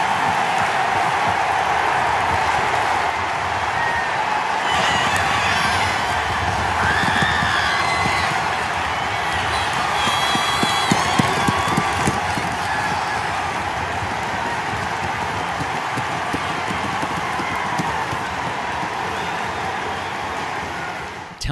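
Dense roar of a large stadium crowd at an Iowa football game, a sustained wall of cheering and applause after an interception returned for a touchdown, swelling slightly midway with scattered shouts.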